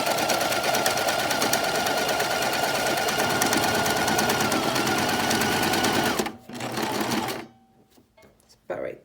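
A sewing machine stitches a duck cloth face mask in a fast, continuous close whir for about six seconds, then pauses and runs again in shorter bursts.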